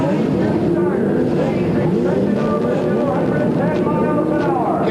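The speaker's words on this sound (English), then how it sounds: "now those engines begin to come to full song" Race car engines at the 1978 USAC Texas Grand Prix rev up into a sustained, rising roar, with pitch sweeping upward near the end, under steady commentary.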